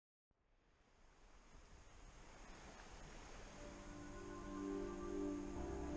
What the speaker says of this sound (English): the sound of the waves there. It's a lovely, lovely sound